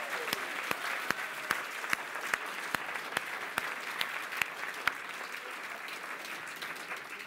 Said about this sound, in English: please, a big round of applause for Pennell's Garden Centres